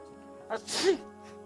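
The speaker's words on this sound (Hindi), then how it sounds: "कमबख्त ने छींक दिया।" A single sharp sneeze indoors, with a brief intake before the burst, close and fairly loud against a quiet background.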